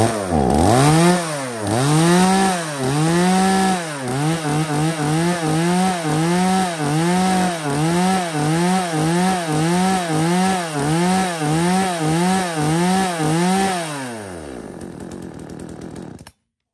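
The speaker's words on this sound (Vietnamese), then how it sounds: "Một con máy cưa Zenowatt Komatsu G3401" A Zenowatt Komatsu G3401 chainsaw with a 36 cm bar runs alone and close for about fourteen seconds, its engine rising and falling in steady repeated revs before cutting off.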